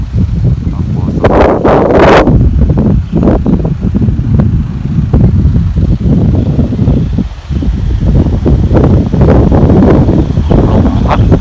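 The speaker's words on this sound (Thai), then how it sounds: "ลมพัดแรงครับลมเย็นลมชายทะเล" A strong, cool sea breeze blows at Wat Ao Noi temple in Ao Noi, Thailand, with a loud, steady, rumbling rush of wind that buffets the microphone and barely eases for the whole stretch.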